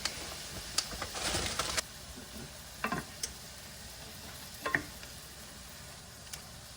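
Green pepper and onion cook quietly in a stainless steel pan, a faint soft sizzle broken by a few brief scrapes and stirring clatters spaced through the quiet stretch.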